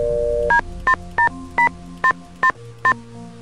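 In the video game Nancy Drew: Stay Tuned For Danger, a telephone keypad is dialed as seven crisp touch-tone beeps in a quick, slightly uneven rhythm, each short and clear over a quiet background hum.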